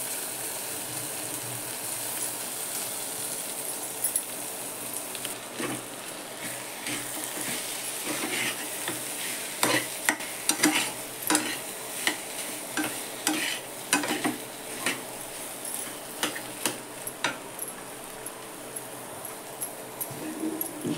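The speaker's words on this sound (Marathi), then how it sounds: "परतून घेते चांगली." Mashed potato filling being sautéed in a pan, a steady sizzle under repeated scraping and clattering of a spatula against the pan that grows busier midway, close and continuous with no speech.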